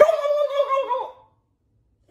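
A person's voice mimics a turkey gobble at a dog: one close, warbling, throaty burst lasting about a second, followed by silence.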